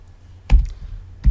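Two short bursts of computer keyboard keystrokes, including a backspace press, sound close and crisp while typing Python code, with a quiet pause between them and no talking.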